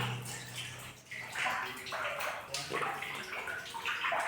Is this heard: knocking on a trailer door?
no